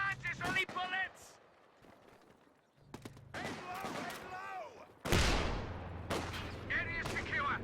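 Gunfire and artillery from a Company of Heroes 2 multiplayer battle: sharp bursts and rattling shots come in clusters, with a heavy blast near the middle, while unit voices and game chatter run throughout.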